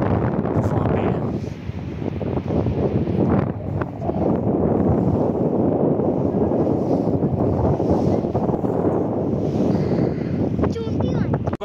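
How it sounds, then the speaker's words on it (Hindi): Strong wind roars continuously into the microphone on the way toward Babusar as rain begins, loud and buffeting throughout, with no clear talk over it. "यहाँ पे बहुत तेज़ हवा चल पड़ी है"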